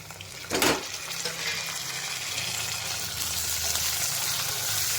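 Chopped tomatoes go into a pan of frying onions and vegetables for vegetable upma, a brief clatter followed by a steady sizzle and soft stirring that runs to the end, with no talk.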